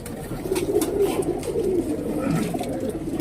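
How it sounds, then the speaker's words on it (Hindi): A pair of white Alif-beak Kaldume pigeons cooing softly and steadily at close range, their low murmuring calls continuing throughout without any talk. "ये अलिफ सोच के सफ़ेद कबूतर है।"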